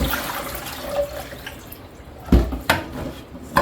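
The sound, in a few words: rinsing eggs under running tap water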